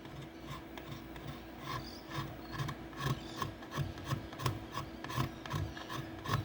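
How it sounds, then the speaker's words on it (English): A sharp knife scrapes a wooden piece to take off big chunks before sanding, a close rasping stroke repeated in a steady back-and-forth rhythm, fairly quiet with no talking. "With a sharp knife coming through and getting the big chunks off"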